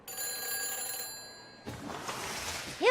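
A telephone rings through a phone helmet after a number is dialed, a steady electronic ringing tone that cuts off partway, followed by faint noise and a rising tonal chirp at the end.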